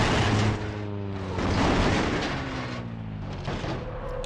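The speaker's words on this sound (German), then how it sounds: "Ich knall mit 160 frontal in den Felsen rein" Simulated car slamming head-on into a rock at 160 km/h in BeamNG.drive, a loud crunching impact with heavy booming noise blended with the droning engine tone, followed by further crashing and rumbling.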